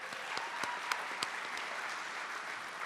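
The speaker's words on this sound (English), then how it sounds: "Let's give a round of applause." Steady applause from the audience at a tennis hall of fame ceremony, even and continuous throughout, with a few sharper individual claps standing out near the front.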